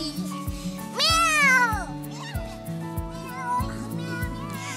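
Cats meow in a series of rising and falling cries over a playful children's-story musical backing, one long loud meow in the middle and shorter calls around it.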